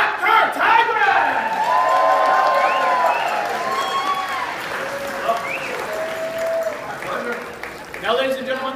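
Enthusiastic hotel crowd applauding and cheering a woman being honored, with loud sustained clapping, whoops and shouted voices rising over it, swelling again near the end.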